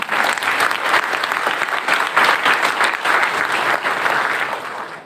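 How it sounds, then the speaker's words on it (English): A school audience claps steadily for a visiting professor giving an expert talk at a Kendriya Vidyalaya, dense continuous applause with no break, moderately loud and filling the room throughout. "So a big clap for sir."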